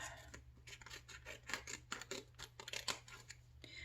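Scissors snip repeatedly through gold rub-on transfer sheets at a craft table, a close, quiet series of crisp cutting and rustling sounds in an irregular rhythm.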